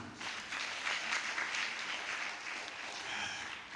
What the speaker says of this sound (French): Acclamons pour vous-même.